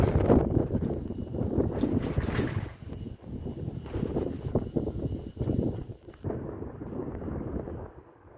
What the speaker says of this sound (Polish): Wieje niestety trochę.